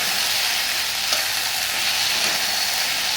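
Okra and eggplant bhujia fries in a pan with a dense, continuous hiss and crackle, close and fairly loud, with no voices.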